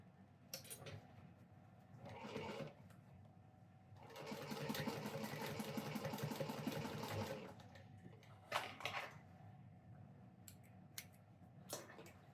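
Sewing machine stitching around an opened seam, a sustained, steady mechanical whir for about three seconds, with softer handling clatter and brief clicks before and after.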